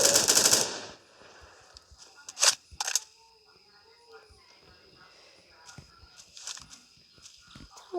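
Machine gun fire in the Rolling Thunder video game: a loud rapid burst at the start, then scattered sharp shots and clicks at a distance, with voices talking faintly.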